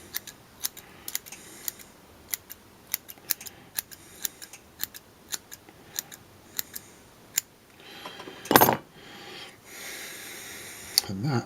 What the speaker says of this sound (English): all I tend to do now is brush it through and give it a little bit of a trim